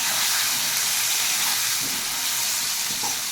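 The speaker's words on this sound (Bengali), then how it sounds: "আলুগুলোকে বেশ একটু ভালো করে ভেজে নেবো। সাথে দিয়ে দেবো পেঁয়াজ কুচি" Potatoes with chopped onion fry in a pan, a loud, dense, continuous sizzling hiss close up that holds steady throughout, with no talking.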